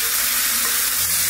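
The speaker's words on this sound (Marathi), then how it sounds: "आपण हा तडका देऊया" Tempering spices, dried chili pieces and curry leaves hit hot oil for sambar, giving a loud, close, steady sizzle with no voices.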